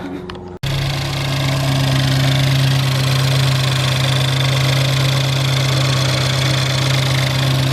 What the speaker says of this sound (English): So first startup, just letting it warm up before we assume things.